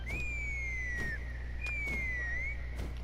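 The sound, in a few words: whistle blown to summon a creature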